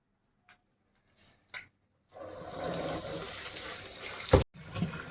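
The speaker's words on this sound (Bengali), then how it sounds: "এবার পাতাগুলোকে আমি একটা একটা করে ভালো করে ধুয়ে নিচ্ছি" Water pours and splashes steadily over bottle gourd leaves as they are washed one by one, a continuous close rushing wash with a few soft knocks before it starts.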